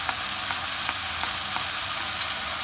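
Dal frying in a pan with chopped ginger, dried chili powder and turmeric powder, a constant dense crackling sizzle with faint intermittent pops, close and unbroken throughout, no voices.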